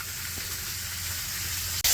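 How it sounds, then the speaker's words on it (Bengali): Rohu fish frying in a pan makes a steady, fairly loud sizzle and hiss, with a brief sharp surge of spitting oil near the end. "তো যে মাছ ভাজা হয়ে গেছে নামাই তো"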